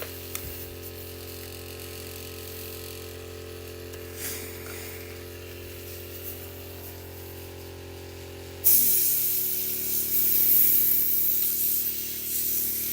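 An airbrush sprays cleaner through while being cleaned during a Warhammer miniature painting session: a low steady hum gives way to a sudden loud, sustained hissing spray lasting several seconds, close by.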